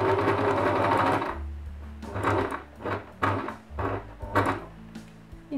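A domestic sewing machine stitches fabric around a corner in bursts: a steady run of close mechanical whirring, then several short start-stop runs with pauses between as the fabric is turned.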